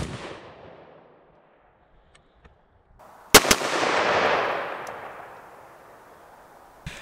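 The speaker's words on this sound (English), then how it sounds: "we're going to shoot two rounds into that target" Handgun shots fired at a target 10 yards away during outdoor training: a sharp report after a quiet pause, a second shot right behind it, then a long fading echo across the open range.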